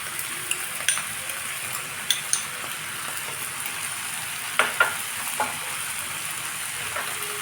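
Chow mein fries in a pan as a premixed sauce is stirred in, a soft continuous sizzle under scattered clinks and scrapes of a utensil against the pan.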